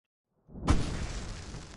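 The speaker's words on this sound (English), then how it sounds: "I can set off more of the fireworks from here and help you out!" A single firework goes off in Alan Wake Remastered with a sharp, close burst after a short silence. A crackling, shattering tail then fades out over about a second.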